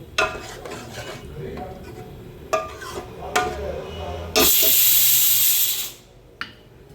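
Savji chicken curry masala with flour stirred and fried in a pan, a spoon scraping and clinking near the mic in bursts, then a loud sizzling hiss for about two seconds before it cuts off.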